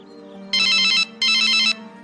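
Two long electronic ringtone bursts, each about half a second, separated by a short pause, ring out loud and close as a phone call is placed from a kitchen, with a low steady hum beneath.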